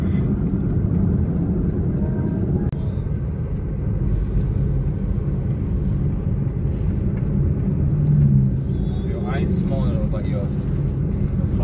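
A car rumbles along a road toward Pakuli near Palu, its low engine and tyre drone steady throughout, with a voice speaking briefly near the end.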